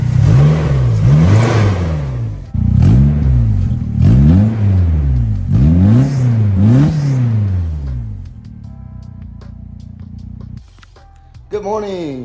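A car engine with a new exhaust revs hard in repeated bursts, each climbing then dropping with a throaty exhaust roar, before settling into a lower idle and a final quick blip.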